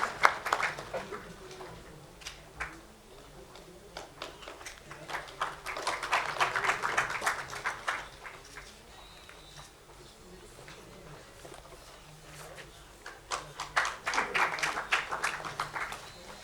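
Students clapping at a college convocation ceremony, bursts of crowd applause swelling near the start, middle and end with quieter gaps between, heard at a distance in a large hall.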